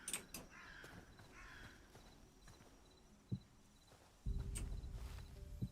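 A crow caws a few times in the Hytale video game, sharp calls near the start and again in the middle, with soft footstep-like clops and a louder rumbling stretch toward the end.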